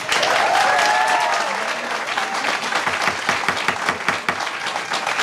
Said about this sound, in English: Please try to refrain from the clapping and the noise.